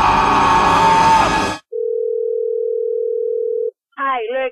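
A telephone dial tone sounds as a steady, clean two-second hum after a burst of noise, then stops before a voice starts talking.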